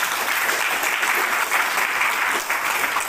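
Steady crowd applause for a village head at a community gathering in North Sumatra, Indonesia, a dense, even clapping from many people nearby lasting about three seconds without pause.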